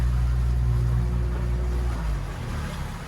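A Drago 550 Cuddy boat with a 2018 Mercury 60HP EFI outboard drones loudly and close by, its engine hum dropping in pitch as the boat eases off the plane and slows.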